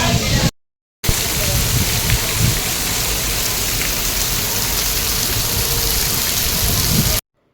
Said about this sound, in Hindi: यहाँ पे इतनी ज़्यादा बारिश हो रही है